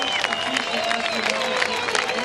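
A crowd at the 2015 Moche Rip Curl Pro surf contest cheers and applauds in a steady roar, with a commentator talking over it.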